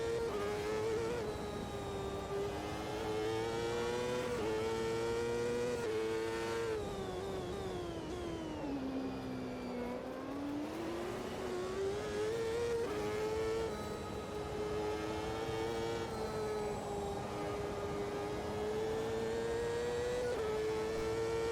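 Reynard 2ki race car lapping Road America in Automobilista 2, a steady whining engine note rising and falling through gear changes and a dip for a tight corner, continuous and fairly faint.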